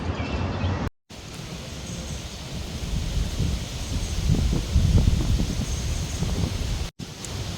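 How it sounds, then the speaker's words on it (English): Blustery wind buffets the microphone outdoors with a steady roar that swells and fades, with brief cut-outs and no speech. "It's a bit windy out here."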